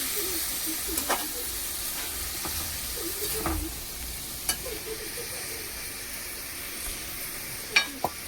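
Fish chorchori cooking in a pan after water is poured in, giving a steady sizzling hiss with occasional clicks and stirring scrapes, close and moderately loud, no talking.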